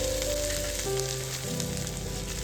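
Mustard seeds, onion, dried red chillies and curry leaves tempering in hot oil in a pan for a bitter gourd stir-fry, a steady close sizzle and crackle running throughout with no talk.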